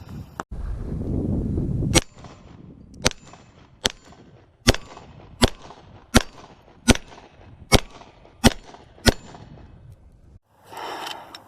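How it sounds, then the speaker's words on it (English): Glock 17 Gen 4 pistol with aftermarket performance parts firing at a target: about ten sharp, loud shots spaced roughly a second apart, each a crisp crack with short decay, then a brief rustle. "So let's try this again in another pistol."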